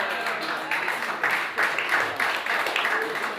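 Church congregation applauding in praise, a broad wash of clapping and cheering voices rising and falling in several surges.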